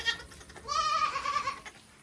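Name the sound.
goats bleating on homestead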